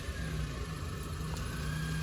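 A Maruti Alto car moves slowly on a village road, its engine a quiet, steady low hum with a constant drone and no speech.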